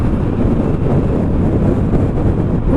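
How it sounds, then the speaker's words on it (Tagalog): Heavy wind rushes over the microphone in a loud, constant roar while riding an Easyride 150N motorcycle, with no speech over it. "yun lakas ng hangin"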